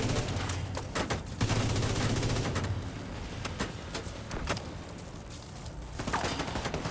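Steady gunfire fills the scene as fuel valves are shot in a video game, a dense continuous rattle of rapid shots with low rumbling booms and scattered sharp cracks throughout.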